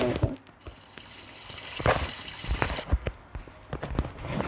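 Running water in a bathroom during a shower, a continuous close gush with occasional knocks and splashes and a brief pause near the end.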